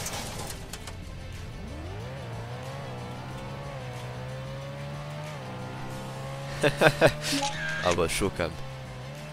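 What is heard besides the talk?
car driving with tire squeal, Roblox Emergency Hamburg video game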